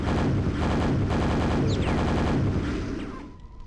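Rapid gunfire from the VR version of the Quake shooter, a loud, dense, continuous volley of shots that rolls on for about three seconds before trailing off near the end.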